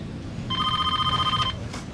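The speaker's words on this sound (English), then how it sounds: "an attorney for the young man who lives in the house that was searched calls Pearson" A telephone rings with an incoming call for a homicide detective, a bright warbling electronic ring lasting about a second over low room noise, with a faint trailing tone afterward.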